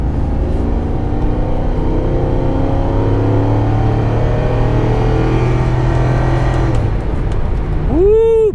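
A 2019 Corvette accelerates up to speed on an interstate, its engine a loud, sustained drone with steadily rising tones before the pitch drops and shifts near the end, heard from inside the car without talk.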